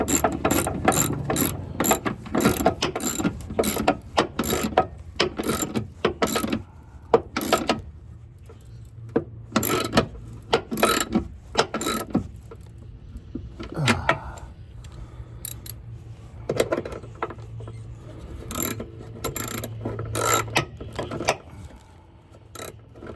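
Ratchet wrench snugging up bolts on a motorcycle, clicking in quick repeated bursts of close, sharp pawl ticks separated by short pauses and clanks of handling.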